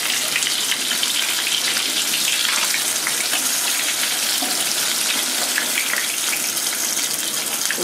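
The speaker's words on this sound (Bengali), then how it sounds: "এই দেখুন মাছটা হালকা ভেজে নিয়েছি" Whole koi fish frying in hot oil in a pan, a loud, steady crackling sizzle with dense spattering that runs unbroken throughout, with no talking.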